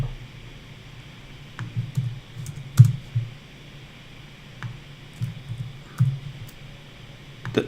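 Typing on a computer keyboard while searching a financial website, scattered key clicks in short irregular bursts over a steady low background hum, with no talk.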